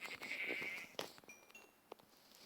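Sheep bleating in the video game Minecraft, a short nasal bleat at close range followed by soft game clicks and faint effects.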